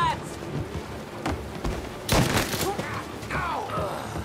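Gunfire in the video game Mafia of War: a series of shots, with the loudest burst about halfway through, set against a busy game background.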